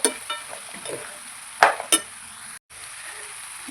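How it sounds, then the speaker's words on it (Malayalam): Onions and cashew nuts sauté with ginger-garlic paste in a pan for paneer butter masala, giving a soft steady sizzle with a couple of sharp spatula scrapes partway through. "ഇനി നന്നായിട്ട് നമുക്കിത് വഴറ്റിയെടുക്കാം."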